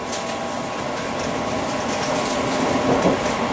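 A Crossrail Class 345 train running between Liverpool Street and Shenfield, a steady loud rumbling roar heard from inside the carriage with a faint electric whine, continuous and slowly building over a few seconds.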